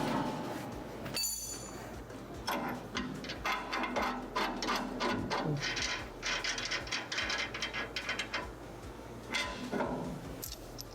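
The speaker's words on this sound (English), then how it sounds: "Just take your 3/4 wrench behind, hold the head of the bolt," A 3/4 wrench loosens a bolt while installing an SGXL granular attachment kit, giving quiet, irregular metallic ratcheting clicks in bursts, close up with no talking.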